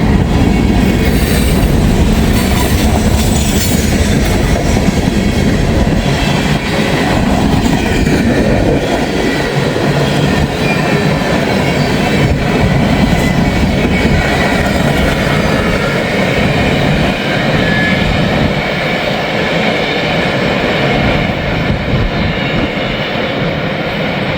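A Norfolk Southern freight train with tank cars rolls past close by in the rain, a loud steady rumble of cars with clattering wheels and occasional metallic squeal throughout.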